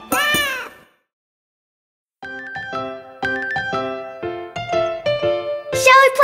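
Cartoon kittens meow in a children's nursery-rhyme song: a couple of sung meows open, then a pause before bright tinkling musical notes and a final burst of meowing.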